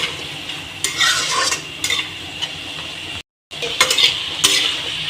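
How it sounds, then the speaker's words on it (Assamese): Meat and tomatoes stirred in a sizzling frying pan, with loud, repeated metal scrapes of the spoon against the pan over a constant frying hiss and a brief cut to silence midway. "বিলাহীখিনি দিয়াৰ পিছত এনেদৰে লৰাই থাকিব"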